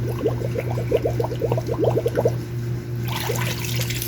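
A 5-gallon bucket fills with water from a hose, a steady rushing pour with bubbling, gurgling splashes close by, the tone shifting brighter near the end as the level rises.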